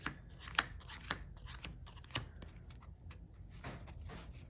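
Yu-Gi-Oh! cards shuffled by hand during play, a soft papery riffle with a few sharp snaps and flicks over a quiet room, close and fairly faint.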